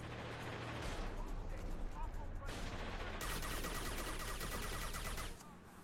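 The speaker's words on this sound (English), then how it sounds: "I'm gonna shoot you some more." Continuous video-game gunfire forms a dense, loud wall of rapid shots and battle noise that runs throughout the clip. It shifts in texture partway through and drops off briefly at the very end.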